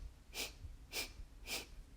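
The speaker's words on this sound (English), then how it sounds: "Once again, that sharp exhale only through the nose." Three sharp, forceful exhales through the nose, evenly spaced about half a second apart, close and breathy with quiet pauses between them.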